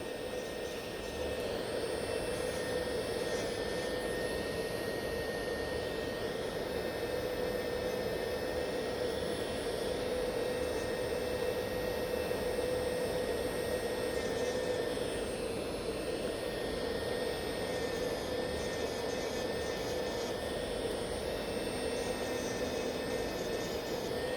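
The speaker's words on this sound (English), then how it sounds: "If you file quite a long time in one place, jump into another nail" An electric nail file grinds steadily on gel on a client's nail, a constant close whine with a steady high-pitched tone that runs unbroken throughout, with no voices.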